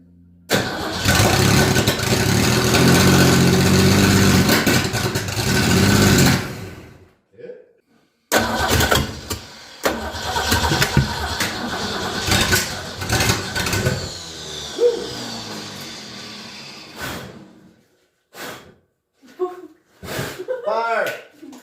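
Ford Ranchero engine cranking and firing up, with a loud churning burst followed by stop-start revving and running over several seconds, while people talk and call out nearby.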